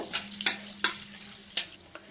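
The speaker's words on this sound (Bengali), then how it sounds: "আর একটা তেজপাতা দিয়ে দিলাম আর তিনটে লবঙ্গ একটা এলাচ ফাটিয়ে নিলাম এলাচটা আর একটুখানি ডালচিনি এটা ফোড়নে দিয়ে দিলাম একটু ভেজে নেব" Whole spices, a bay leaf, cloves, cracked cardamom and cinnamon, fry in hot oil for a mutton curry, giving a soft steady sizzle broken by a few sharp crackles and spoon clicks against the pan.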